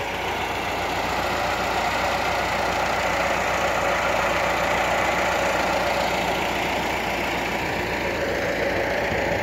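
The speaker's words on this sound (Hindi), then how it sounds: "ये दोनों साइड से ओपन है, दो ट्रैक्टर लगाए हुए हैं," Two tractors run continuously side by side while pressing silage in a bunker open on both sides, a steady loud diesel drone with a low rumble that holds level throughout.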